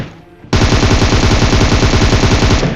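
Rapid automatic gunfire in the mobile battle royale game PUBG Mobile bursts in after a brief quiet lead-in, a loud, sustained stream of shots with no talking.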